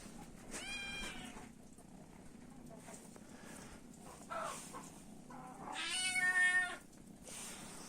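Small kittens give two high, thin meows a few seconds apart, close by, over a quiet background with faint rustling.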